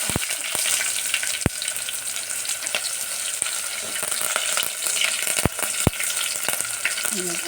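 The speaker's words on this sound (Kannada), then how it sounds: "ಈಗ ಅದಕ್ಕೆ ನಾನು ಸಾಸಿವೆ ಜೀರಿಗೆನ ಹಾಕ್ತಾಯಿದ್ದೀನಿ. ಒಂದು ಸ್ವಲ್ಪ ಪಟ ಅನ್ನಬೇಕು." Mustard seeds and cumin sizzle in hot oil, a dense continuous close frying hiss broken by sharp crackling pops at irregular moments, loud and with no talking.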